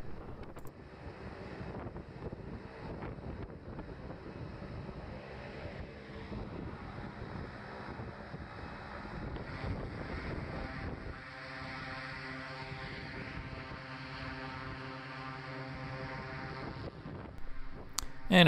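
Strong blowing air from a running engine rushes across an outdoor parking lot as a steady, loud roar with wind buffeting the microphone, a droning engine tone growing clearer toward the end, no talk.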